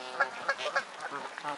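Young Canada geese give a run of short nasal honks and calls at close range, repeating in quick uneven bursts.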